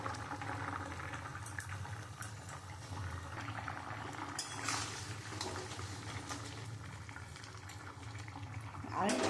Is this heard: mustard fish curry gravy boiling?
yes